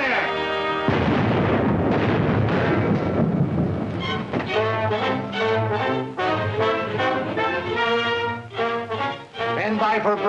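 Ship's cannon broadside in a 1936 war film, heavy booming blasts mixed with shouting voices, loud and rumbling at first, then giving way to a chorus of yelling men over continued din.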